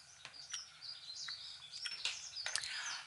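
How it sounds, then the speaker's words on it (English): Songbirds chirping and trilling in spring, scattered bright calls and short warbles over a quiet background, fairly faint and somewhat distant, with no voices. "Can you hear the birds singing?"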